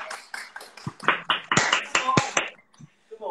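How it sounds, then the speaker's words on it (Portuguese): A small group claps in a short, uneven burst of sharp hand claps lasting a couple of seconds, recorded close during a live workout stream, then fades to quiet. "Uma salva de palmas para nós."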